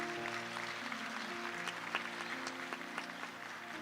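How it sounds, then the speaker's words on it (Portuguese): A church congregation applauds during a sermon, a steady wash of many hands clapping with sustained musical tones held underneath throughout. "Pode aplaudir?"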